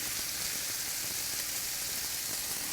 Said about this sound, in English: this sizzling sound and the smells in the kitchen